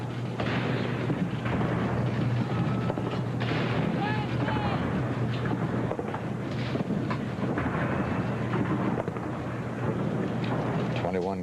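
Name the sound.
ceremonial gun salute by an Army salute gun platoon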